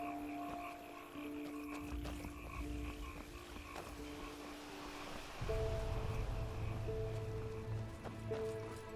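Frogs croak steadily throughout a scene in the video game Enderal, layered over a dense ambient soundscape of music and environmental tones, with no one speaking.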